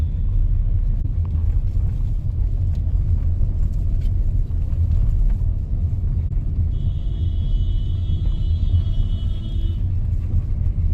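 Car driving with its windows closed, a steady low rumble of engine and road noise inside the cabin that stays constant throughout, with a faint high whine briefly rising partway through.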